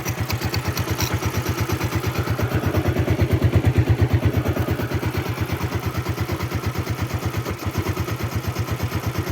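A 2005 Suzuki Smash motorcycle idles smoothly up close, its single engine putting out an even, rapid thumping pulse with light mechanical clatter that holds steady throughout, no voices.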